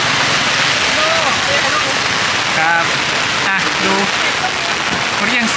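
Heavy storm rain pours loudly and steadily over a busy open-air evening market in Tha Rua, a dense hiss of drops on roofs and stalls with vendors' voices faintly audible beneath.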